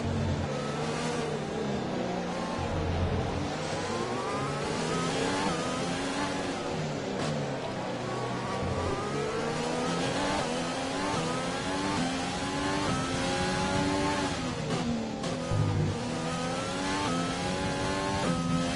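Formula 1 cars racing at the Mexico circuit in the F1 2020 video game, engines whining and rising through gear changes almost nonstop, several cars audible together, loud and steady throughout.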